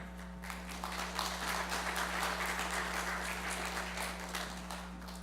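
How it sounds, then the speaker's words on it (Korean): A church congregation applauds to welcome a retired pastor coming forward, a dense, even clapping that stays steady for several seconds over a faint low hum. "나오실 때 크게 박수로 우리 환영하겠습니다."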